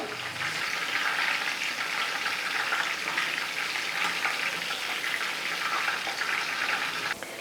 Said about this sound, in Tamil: மீல் மேக்கரை நல்லா ஃப்ரை பண்ணி எடுத்துக்கிட்டேன்